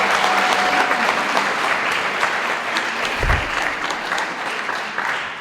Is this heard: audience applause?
yes